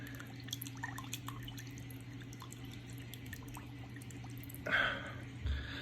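LPS coral frags are shaken in a coral dip solution, giving faint sloshing and dripping liquid over a steady background hum, with a brief louder splash near the end.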